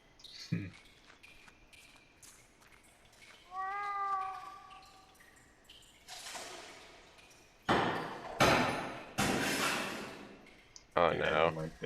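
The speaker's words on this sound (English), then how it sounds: "It sounds like a cat." Cat meowing in the video game The Last Door, one short rising meow heard plainly amid scattered clicks and thuds, with bursts of people talking afterward.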